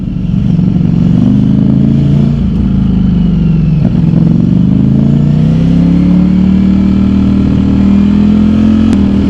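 A Ducati Streetfighter V4S motorcycle rides through Monday rush-hour traffic on London's North Circular, its engine loud and close with a steady low drone that rises and dips as the throttle changes, over surrounding road noise.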